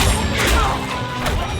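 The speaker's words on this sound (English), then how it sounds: "This can also be seen in hand-to-hand combat effects, specifically comparing the fight between Geralt, Rience, and his men in The Witcher" Hand-to-hand combat impacts from a Witcher fight, a dense crunching smash and thud mixed with grunting voices, loud and close.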